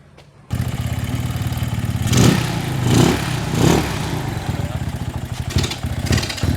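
A dirt bike's engine kicks into life after a brief quiet start, then runs with a steady, buzzing, close-up idle broken by a few throttle swells, while a person talks over it.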